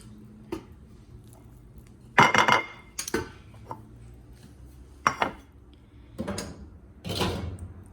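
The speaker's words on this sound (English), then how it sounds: "We're just gonna fluff it up a bit and serve a good amount in our bowl" Cooked brown rice is fluffed and spooned into a bowl: soft scraping and several bright clinks of a utensil against the pot and dish in separate bursts, near and fairly loud with quiet gaps between.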